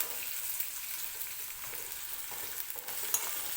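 Onion frying in oil for potato bhaji, stirred with a spoon: a steady bright sizzle with a few soft scrapes of the spoon against the pan.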